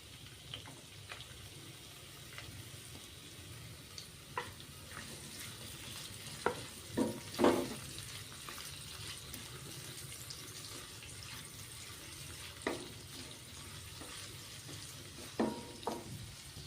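Capsicum sizzling in a pan over medium gas, a soft continuous fry with scattered sharp clicks and spatters, faint and close, no talking.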